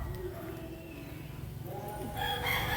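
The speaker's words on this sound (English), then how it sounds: "You hear the chickens, there's chickens all over." Chickens cluck and crow faintly outdoors in Tanjay City, Philippines, with a steady background rumble and distant activity throughout.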